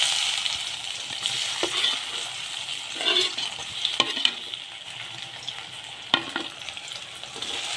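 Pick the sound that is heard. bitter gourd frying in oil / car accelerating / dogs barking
bitter gourd frying in oil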